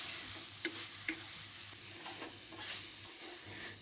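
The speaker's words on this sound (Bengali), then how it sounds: "এবার এগুলোকেও খুব ভালো করে কিন্তু মিশিয়ে নিতে হবে।" Water spinach with turmeric powder and salt is stirred in a hot pan, giving a quiet, steady sizzle with light spatula scrapes and a couple of soft taps early on, no voices.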